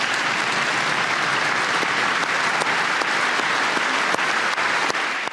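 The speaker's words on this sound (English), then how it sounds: "They're getting a nice applause" A congressional audience at a presidential joint address applauds steadily, dense sustained clapping filling the whole span at high volume without a break.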